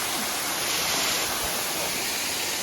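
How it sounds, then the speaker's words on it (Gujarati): The Bilpudi waterfall, also called Mavli falls, near Dharampur: a loud, steady roar of falling water, close and continuous, with no voices heard. "આ રહ્યો બિલપુડીનો વોટરફોલ, જેને માવલી ધોધ બી કહેવામાં આવે છે"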